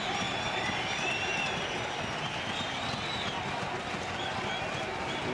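A cricket crowd at a 1998 India versus New Zealand match in Sharjah cheering and applauding a wicket, a dense, steady roar of distant voices and clapping sustained throughout.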